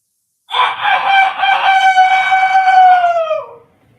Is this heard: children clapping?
no